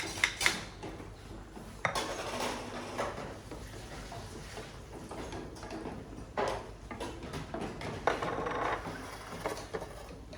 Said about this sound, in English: And now put the roasted sticky rice in your pot.